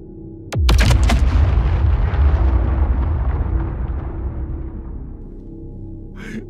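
A single massive bomb blast from an A1/A2 bomb against a Polaris ship in the space game Star Citizen: a sharp crack followed by a heavy, rolling rumble that slowly fades over several seconds.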